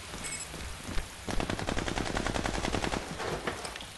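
Machine gun fire in the video game Army of Two: The Devil's Cartel: after a brief quiet start, rapid sustained bursts rattle out as a dense, crackling stream, fairly faint and distant.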